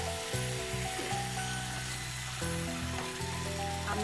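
Pulao (spiced rice) sizzles steadily in a pan as it is stirred, a soft continuous frying hiss beneath background music.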